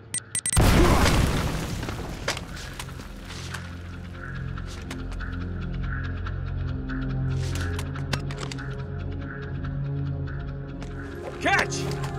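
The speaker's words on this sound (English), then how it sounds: "Grenade!" A grenade blows up in the Uncharted action game with a loud, close boom early on and a rumbling decay, followed by sustained gunfire, clatter and ongoing combat noise.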